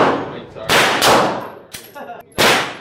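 .357 Magnum revolver shots ring out three times at an uneven pace, each a sharp, loud blast with a long, echoing decay.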